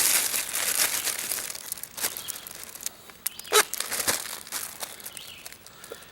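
A Ziploc plastic bag being handled for double bagging gives close, dry crinkling and rustling in irregular bursts, with a few sharper crackles partway through.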